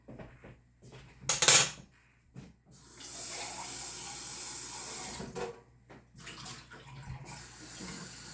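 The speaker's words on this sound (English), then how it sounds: "And I'll rinse out the tin for the recycling." An emptied coconut milk tin being rinsed under a kitchen tap: a metallic clank, then a steady stream of running water for a couple of seconds, followed by sloshing and further tin knocks.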